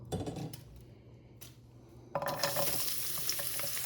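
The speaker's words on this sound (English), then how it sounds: "And I'm going to add this garlic to this oil." Chopped garlic dropped into oil in a pan over low heat, a few quiet clinks and taps first, then a sudden steady sizzle that stays bright and continuous to the end.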